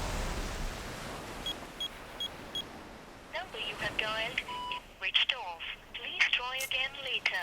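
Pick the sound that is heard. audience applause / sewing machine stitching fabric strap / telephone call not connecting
telephone call not connecting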